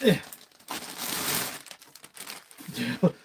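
A Mattel Jurassic World figure is pulled out of its plastic toy packaging, with bursts of crinkling and crumpling between bits of talk.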